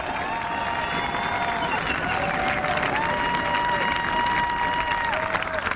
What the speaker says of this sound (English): Scott Hendry getting a nice round of applause.